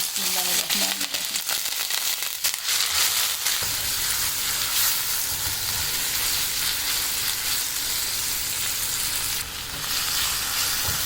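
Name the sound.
vegetables frying lightly in cooking oil in a wok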